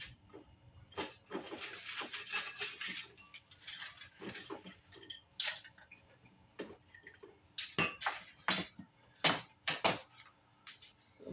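Chicken tortilla soup is ladled from a pot with a run of close clinks and scrapes of ladle on metal and bowl, irregular and fairly soft, with quiet gaps between the knocks.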